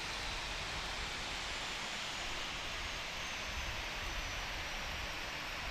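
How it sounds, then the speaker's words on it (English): Engines of a Fenix A320 airliner in Microsoft Flight Simulator wind down after shutdown, a loud, steady broadband rush with no talking. "Please cut engines. APU is on. Engines getting cut."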